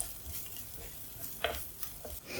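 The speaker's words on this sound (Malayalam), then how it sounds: "ഉള്ളിയൊക്കെ ഒന്ന് നന്നായിട്ട് ഗോൾഡൻ ബ്രൗൺ ആവുന്നവരെ ഒന്ന് ഇളക്കി കൊടുക്കാം" Onions with curry leaves sauté in hot oil, a soft steady sizzle broken by scraping stirs of a spoon in the pan, close and moderately quiet.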